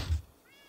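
A cat meows once, short and fairly close, in the Minecraft video game, with a faint background hum under it.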